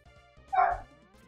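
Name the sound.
dogs howling or singing in the background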